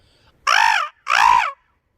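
A boy imitating a crow, two loud, drawn-out nasal caw sounds close by, each under half a second, separated by a brief pause, with near silence around them.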